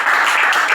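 A church congregation breaks into brief applause, a short loud burst of many hands clapping together.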